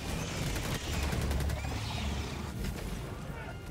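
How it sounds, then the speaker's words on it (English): A burst of rapid strafing-run gunfire from an airstrike in Helldivers 2, dense overlapping shots and impacts rattling loudly for a few seconds, with faint voices mixed underneath. "Nice strafing runs"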